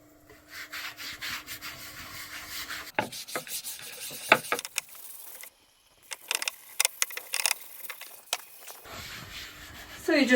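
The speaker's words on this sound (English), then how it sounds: "So you just rub it in, use a bit of elbow grease as well, and just do the sides." Soft cotton cloth from old pyjamas rubs beeswax and olive oil polish into wood, giving close, rhythmic scrubbing strokes in bursts with a short pause partway through, and occasional quiet speech.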